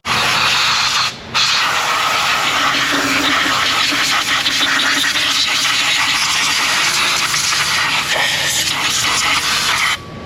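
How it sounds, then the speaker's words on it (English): A compressed-air blowgun blasts dirt off an engine's throttle body, a steady loud hiss lasting about ten seconds with a brief break near the start. "I'm going to get a blowgun too. Put a rag over the throttle body, blow some of this dirt off here"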